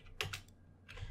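Quick keystrokes on a computer keyboard as a website address is typed: a handful of crisp, close clicks in two short clusters with a brief pause between.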